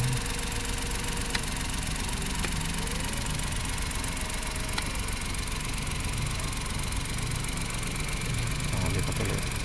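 A Mazda Scrum DA63T mini truck engine runs steadily just after a digital radiator fan switch was installed, a continuous close idling drone with a faint mechanical knock, no obvious revving.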